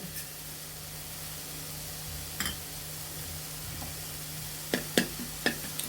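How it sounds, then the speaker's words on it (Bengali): Black cumin frying in a spoonful of oil makes a faint, steady sizzle with a constant hum beneath, broken by a few crisp pops and crackles near the end. "কালো জিরাটা অবশ্যই একটু তেল দিয়ে ভেজে নিতে হবে"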